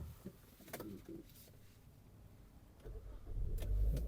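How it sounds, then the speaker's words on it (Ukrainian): Birds coo nearby, then a Hyundai Tucson engine with 150,000 km turns over and rumbles to life toward the end, growing louder. "Давайте запустимо двигун."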